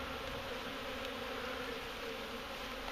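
Bees buzz in a steady, dense drone, fairly faint and continuous, with no voices.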